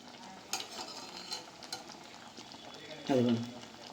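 Green chillies cooking in a pan for lemon pickle, with soft stirring scrapes and faint sizzling, then a louder clatter of the pan near the end.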